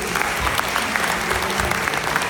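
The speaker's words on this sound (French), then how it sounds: "moi je vous demande d'applaudir notre présentateur, notre animateur de la journée, Stéphane Hardy, s'il vous plaît." An audience at a singing contest event in Roubaix claps for the host, a brief burst of dense, steady applause from a crowd.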